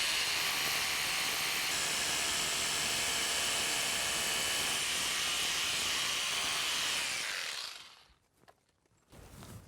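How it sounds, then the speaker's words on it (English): A power drill with a 1/4 inch bit whines steadily and loudly for about eight seconds as it bores into a pre-drilled steel EXO egress window frame. It then cuts off, leaving brief clattering. "this 1/4 inch drill bit will go right in this hole"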